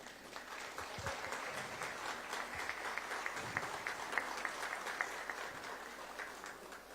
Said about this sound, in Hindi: जोरदार तालियां चाहेंगे।